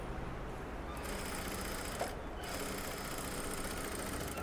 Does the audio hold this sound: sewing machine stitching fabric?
yes